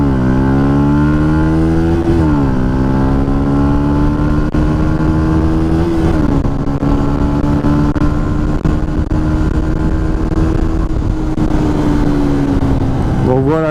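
A Yamaha MT 125 motorcycle fitted with a K&N air filter accelerates from low speed toward 100 km/h, engine pitch climbing through several gear shifts, loud and close, with a rider speaking over it.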